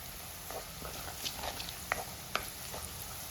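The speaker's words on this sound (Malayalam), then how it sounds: "ഇത്രയും കൂടെ കിടന്ന് നന്നായിട്ടൊന്ന് മൂക്കണം" Green chillies and cinnamon sticks fry in oil in a pan for Kerala-style dry prawn pickle, giving a steady low sizzle with a few brief spoon taps and scrapes against the pan.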